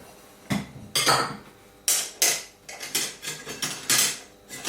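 A spoon works through cottage-cheese cake batter in a bowl, knocking and scraping against the sides in irregular, fairly loud clinks and bursts, close by.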